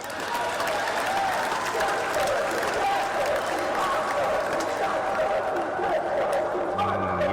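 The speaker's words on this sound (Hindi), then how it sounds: "ये तालियों की गड़गड़ाहट, ये शोर शराबा बता रहा है कि पॉइंट तो आया है शिवम के लिए" Steady crowd applause and cheering fill a kabaddi semi-final between Maharashtra and UP, loud and continuous throughout after a touch point, with commentary voices mixed into the din.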